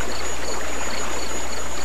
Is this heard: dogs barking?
no